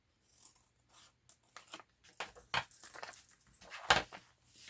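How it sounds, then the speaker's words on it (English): Scissors snip through paper to cut out butterfly-shaped tag tops, giving a run of short, close crisp cuts and rustles that grow louder toward the end. "I need to cut these out, and I'm just going to cut them straight across that corner like that"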